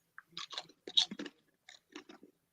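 Crunchy oven-baked chips are chewed close up in a series of crisp, irregular crunching bites with brief pauses between, loud and alone with no talk.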